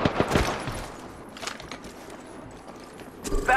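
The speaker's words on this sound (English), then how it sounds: "I'm getting shot! Firing!" Gunfire in the Apex Legends video game, a few quick bursts of shots early and again near the end, with scattered fainter impacts between them at moderate distance.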